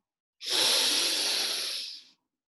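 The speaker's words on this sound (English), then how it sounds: "Breathe in again." A single deep inhalation during a guided meditation session, a smooth breathy rush of air that starts abruptly, holds steady for nearly two seconds, then fades, close and quiet with no voices over it.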